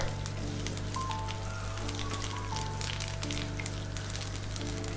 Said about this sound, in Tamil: இதெல்லாம் போட்டு நல்லா வாசம் வர்றது வரைக்கும் ஒரு மிதமான தீயில வச்சு நல்லா வறுத்து கொடுங்க